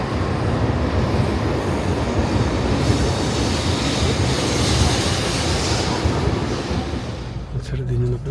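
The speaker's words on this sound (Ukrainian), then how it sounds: "Наш поїзд прийшов." Nozomi shinkansen bullet train arriving at a station in Japan, a loud sustained rush and rumble of wagons rolling past close by, easing off near the end with some station background.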